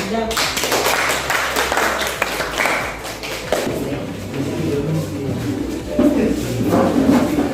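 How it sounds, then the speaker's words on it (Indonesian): Scattered clapping in a classroom, loose and uneven at first, then thinning as voices and room chatter take over in the second half. "Oke, tepuk tangan."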